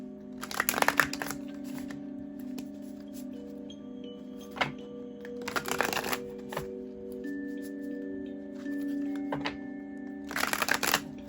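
Tarot cards being shuffled by hand in three brisk bursts of riffling and slapping, separated by quieter gaps with faint handling noise over a low background hum.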